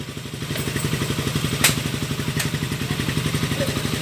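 Raider 150 motorcycle engine with a new block and connecting rod, idling up close in a steady fast rhythmic putter with light mechanical clatter, heard alone.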